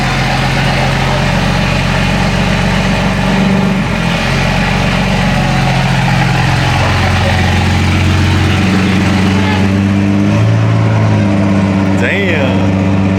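Toyota Supra with a catless downpipe and loud exhaust, running as a deep, steady idle with a few revs, close by, while people talk over it.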